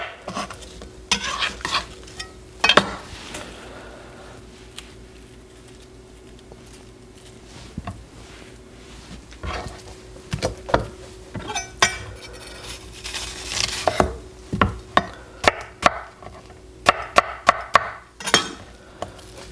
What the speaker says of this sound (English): So I'm gonna cut the rinds off of these